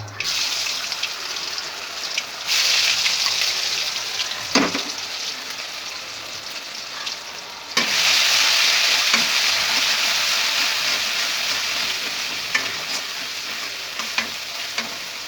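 Bori lentil dumplings and peanuts fry in hot oil tempered with panch phoron, giving a loud, steady sizzle with stirring and clatter throughout. The hiss swells sharply as more pieces drop in, and running water can also be heard.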